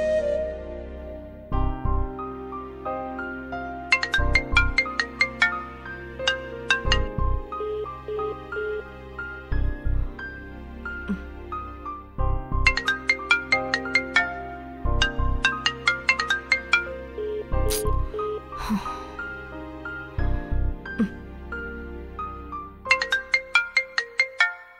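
A phone ringtone plays a repeating melodic tune for an incoming call, loud and clear with regular bursts of chiming notes and no talking over it.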